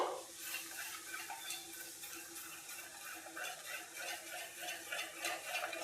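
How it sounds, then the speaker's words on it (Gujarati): A spoon stirs and scrapes through thick rava besan dhokla batter in a steady, repeating rhythm, close and continuous, with no talking. "તો બધું મિક્સ કરી લેશું."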